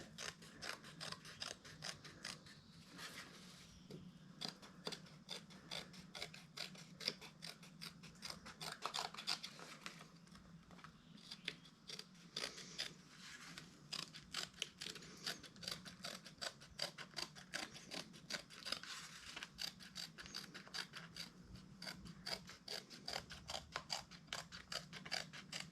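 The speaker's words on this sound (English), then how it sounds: "then cut out the outer with your handy dandy Swiss Army knife" Small Swiss Army knife scissors snipping through cardboard to cut out a homemade gasket, a long run of close, quiet, rapid clicking cuts with brief pauses between them.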